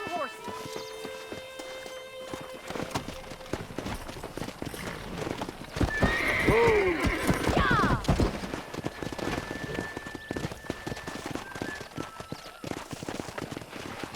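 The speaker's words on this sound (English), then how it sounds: "Let's see if we can't wrangle some horses." Horses in the Red Dead Redemption video game clip-clop at a run and whinny loudly midway, while a rider shouts encouragement over the hoofbeats and distant ranch ambience.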